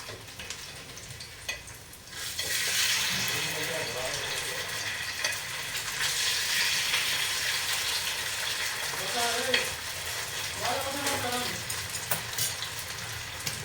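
Kingfish (surmai) slices frying in coconut oil in a pan give a loud, steady close sizzle that swells when the pieces are turned, with faint voices in the background.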